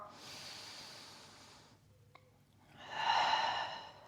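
Breath exhaled during a Pilates exercise with a ball, a soft breathy hiss that fades out, followed by a louder, stronger breathy exhale after a short pause, close and alone without talk.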